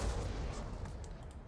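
Distant artillery fire in a Napoleonic battle game set at Borodino, a low continuous rumble of booms with a few faint high crackles near the end.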